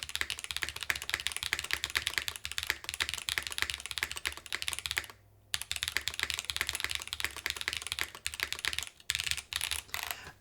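Rapid typing on a YUNZII AL65 mechanical keyboard with PCB foam and an FR4 PCB, dense deep clacky keystrokes close up, continuous apart from a brief pause midway.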